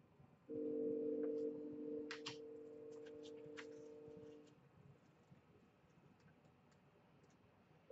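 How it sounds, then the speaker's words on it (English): A faint, distant train horn holds a steady tone for about four seconds over quiet background noise, with a few light ticks alongside. "we hear that train in the distance"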